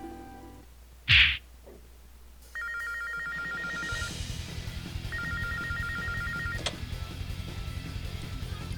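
A telephone in a game rings in two bursts of rapid electronic trilling over a low steady background hum, after a brief sharp knock at the start; no one speaks.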